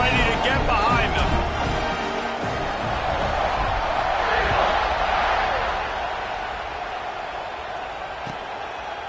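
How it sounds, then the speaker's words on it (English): Stadium crowd in the College Football 26 video game cheers and roars, swelling in the middle and then fading, with a commentator talking over it. "this crowd now ready to get behind them"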